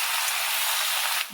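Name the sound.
vegetables frying in oil with shrimp and spices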